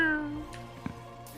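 A human voice imitates a cat's meow: one short, drawn-out call with a falling pitch at the start, then near silence with a faint thump.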